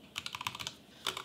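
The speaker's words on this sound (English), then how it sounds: "if I go into insert mode here and I start typing" Rapid typing on a computer keyboard in Neovim insert mode: a close burst of about a dozen crisp key clicks, a brief pause, then a few more strokes.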